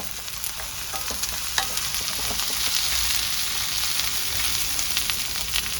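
Breakfast food, cooked Filipino style in a pan over a hot outdoor fireplace, sizzles and crackles steadily while a utensil stirs it, with scattered scraping clicks over the continuous frying hiss.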